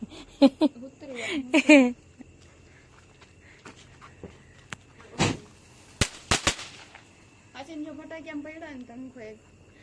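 Diwali firecrackers burst in several sharp cracks, one loud pop followed by a quick cluster of three, interspersed with people chatting nearby.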